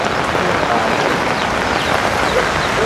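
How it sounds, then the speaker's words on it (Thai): Steady rain pours down in a dense, loud, continuous hiss and patter close by, with no break across the short stretch. "ฝนตกแห้งนะพี่น้อง"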